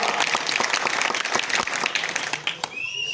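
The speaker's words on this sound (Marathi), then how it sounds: "त्यासाठी सर्वांनी टाळ्या वाजवा." Dense crowd clapping at a political rally of several thousand people in Soygaon, loud, steady applause that thins out near the end, where a brief whistle-like tone appears.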